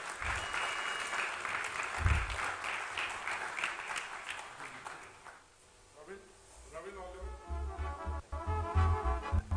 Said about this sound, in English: please give our jury a big round of applause